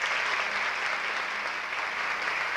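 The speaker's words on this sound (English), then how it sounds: "there was a first round of applause." An audience at a tap dance recital claps in a dense, even round of applause that holds at a steady level from start to finish, with no voices standing out above it.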